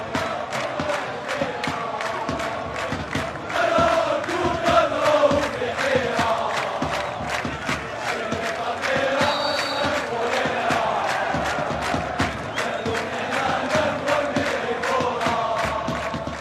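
Football stadium crowd of USMA supporters chanting political songs in unison, a dense, loud mass of voices with a steady rhythmic clapping or drum beat pulsing throughout.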